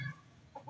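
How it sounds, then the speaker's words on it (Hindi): Chickens cluck in short bursts at a backyard coop as they are shut in for the night, a faint, brief pair of calls with a quiet pause between them. "तो चलो मुर्गियों को हम खुडे में बंद करते हैं।"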